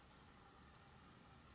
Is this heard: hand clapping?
no